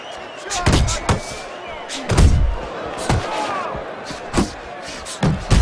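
Punches landing in the Fight Night Champion boxing video game, Joe Calzaghe bout: a series of hard, close thudding impacts in irregular bursts over crowd noise, with a commentator talking throughout.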